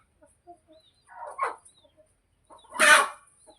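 A hen clucking, with two short bursts of throaty clucks separated by silence, close and clear, alone without talking.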